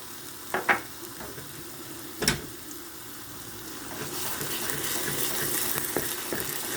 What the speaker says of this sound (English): You just keep stirring it and stirring it and stirring it.